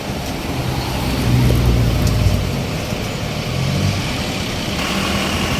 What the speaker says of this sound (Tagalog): Traffic na, rush hour na, rush hour.